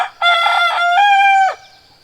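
A Rhode Island Red rooster crows once, loud and close, a strained rising call that holds for over a second before breaking off, with no other sounds around it.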